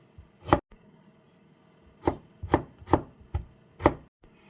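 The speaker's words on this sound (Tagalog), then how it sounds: "ganun din ang gagawin natin sa carrots. Strip lang din yung ating hiwa." Carrots being cut into strips with a knife on a board, sharp distinct chops, one early, then a quick run of five after a pause, close and clear with quiet in between.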